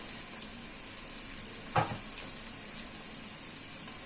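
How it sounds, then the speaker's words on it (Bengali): Faint, steady sizzle of onion frying in a pan, with one brief clatter partway through; quiet and continuous. "পেঁয়াজটা ভাজা হইতে থাক"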